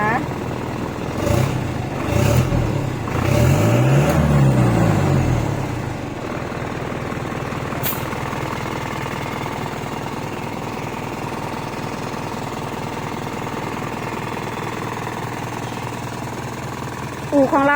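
Hino Mega truck with a 175 hp J05E engine, running without a muffler and not remapped: loud, rough revving swells for the first few seconds, then settles into a steady, throbbing idle rumble close by.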